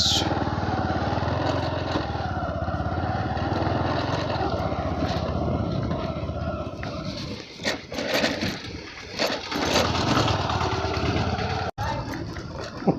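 Motorcycle engine running steadily at the start of a village road ride in Odisha, a continuous loud drone that holds throughout with slight rises and dips near the end.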